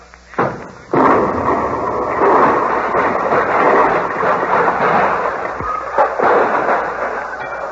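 On an old radio comedy broadcast, a miniature atom bomb dropped on the floor sets off a loud explosion effect: a sharp crack, then a long, heavy, roaring rumble with narrow, tinny broadcast-quality sound.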